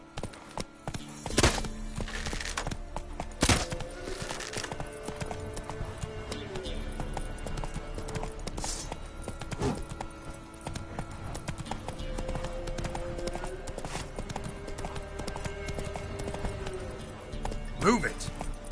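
Horse hooves clip-clop at a steady galloping pace in the video game The Witcher 3: Wild Hunt, with game sounds and occasional thumps while someone talks over it.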